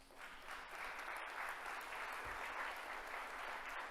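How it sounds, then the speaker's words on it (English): Audience applause at a talk on first-generation students, a dense, even wash of many hands clapping, steady and sustained throughout with no speech over it. "that deserves some applause"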